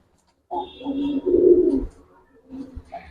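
Giribaz pigeons of an old pedigree line coo up close in a low, rolling burst lasting about a second and a half, followed by a quieter second call, with no voices.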